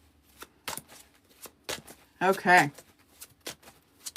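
Tarot cards shuffled by hand in a series of soft, quick riffles and taps, close and fairly quiet, with one brief spoken word among them.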